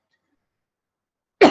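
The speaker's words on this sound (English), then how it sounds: "Sorry about the cough." A single short cough bursts out close and loud at the very end, after more than a second of silence.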